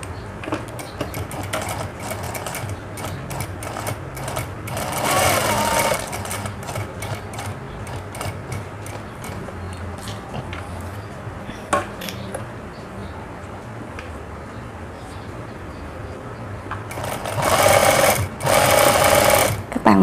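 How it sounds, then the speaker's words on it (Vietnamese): Sewing machine stitching a shirt collar in a home sewing setup, a steady rapid motor-driven stitching whir running through most of the span, with a louder burst near the end and no talk over it. "Và các bạn sẽ bắt đầu may. May từ cái điểm này nè."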